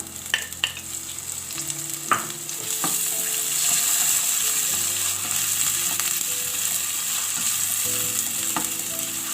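Steady sizzling of onions frying in about two tablespoons of oil, with occasional clinks and stirring scrapes near the start; no talking.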